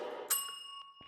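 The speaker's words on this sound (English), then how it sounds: "Ring the bell for good luck." Hand bell in Phasmophobia rung once, a bright metallic strike followed by a ringing tone that decays over about a second, with a couple of faint later taps, heard alone.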